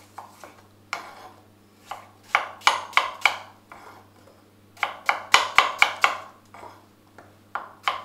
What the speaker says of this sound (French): Maintenant, je les taille en tranches